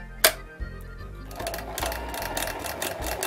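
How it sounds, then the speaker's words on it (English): Sewing machine finishing a buttonhole end stitch, a sharp click then steady fast mechanical stitching chatter, close and alone, running continuously for a few seconds. "Needle up and the buttonhole is sewn."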